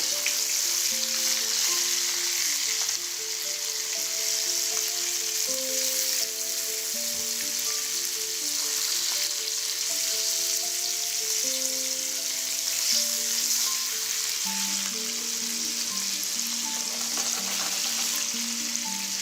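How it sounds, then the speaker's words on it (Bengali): Hilsa fish frying lightly in a pan, a continuous even sizzle held at steady loudness throughout, with soft background music underneath and no talking. "আমি ইলিশ মাছটাকে হালকা করে ভেজে নিচ্ছি"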